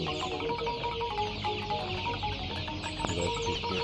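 Joper chickens clucking and calling for food around feeding time, a dense close chorus of overlapping clucks and squawks that carries on continuously.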